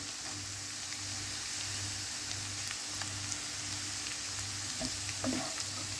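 Chopped onion and grated carrot fry together in a pan, giving a quiet, even sizzling hiss. Only a few faint clicks break the steady sound.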